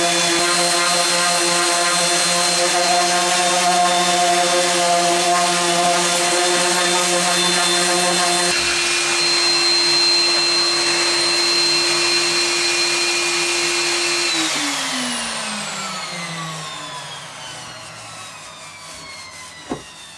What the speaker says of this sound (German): Dann kann ich jetzt mal mit einem kleinen Schliff machen.